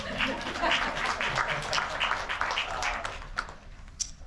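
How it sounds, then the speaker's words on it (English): Audience applause at a talk on teamwork in multifamily passive house projects, a steady patter of many hands at moderate level, tapering off near the end with a few isolated claps. "Thank you for the applause."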